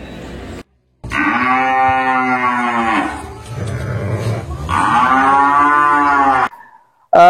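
Cattle at a livestock market in Indonesia low loudly in long drawn-out moos, two sustained calls back to back, close and strong, with no voices over them.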